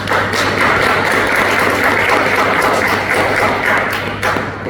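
A hall audience at a Sunday School anniversary applauds to welcome a guest, with loud, dense, sustained clapping from many hands that fades slightly near the end.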